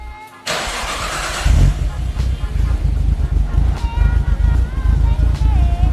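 An R33 Nissan Skyline fitted with a new exhaust starts up and settles into a loud, deep, rumbling idle with blips of revving, heard up close. Voices speak now and then over the engine.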